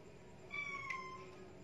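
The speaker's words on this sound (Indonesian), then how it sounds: "Tuh, kucing itu." A cat meows faintly once in a quiet setting near an otter. The call is a thin, drawn-out tone over low background hiss.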